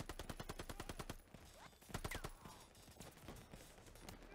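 Rapid machine gun bursts in the Call of Duty: Vanguard video game, a fast regular string of shots, then scattered further firing and battle noise, faint overall.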